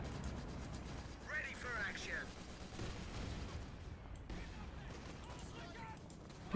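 Artillery and Raketenwerfer rocket launcher fire in a WWII strategy game, a steady rumble of distant booms and bursts running throughout beneath a commentator's voice.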